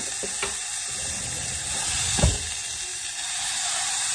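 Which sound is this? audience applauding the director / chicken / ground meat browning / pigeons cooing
ground meat browning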